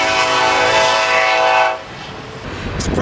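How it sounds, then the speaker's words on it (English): A passing train sounds its horn, a loud sustained chord near an abandoned store, cutting off abruptly partway through and leaving a softer rumble and rattle of rail cars rolling by. "Sorry, I didn't realize the train was coming."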